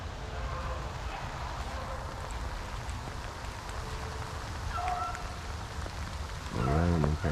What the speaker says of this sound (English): The rain came about.